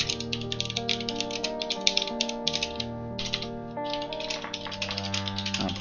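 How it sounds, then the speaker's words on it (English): Rapid, loud clicking from a mechanical keyboard with Cherry MX switches, steady keystrokes rattling on close-up over a sustained tonal hum in the background. "The only thing about your keyboard is it's so loud."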